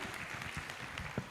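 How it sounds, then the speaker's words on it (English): A hall audience at a university first-year orientation claps for a departing choir, a quiet, steady spatter of applause heard from a distance. "A round of applause for them as they leave."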